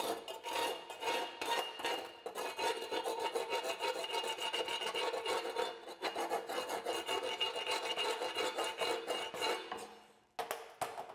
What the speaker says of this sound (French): je vais enlever le laitier avec le marteau à piquer